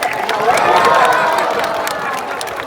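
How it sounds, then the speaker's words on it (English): Audience at a parrot show breaks into loud applause and cheering, a lively wash of clapping and raised voices that swells early and then gradually fades. "what usually gets her doing this is a big round of applause just for her"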